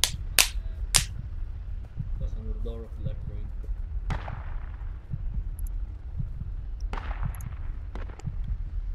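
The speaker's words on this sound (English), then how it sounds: "I'm hearing sniper shots to the 150" Sniper rifle shots in the military shooter game Project Reality crack out sharply, two close together, then single reports, each ringing with a long echoing tail across an urban map, with voices talking at times.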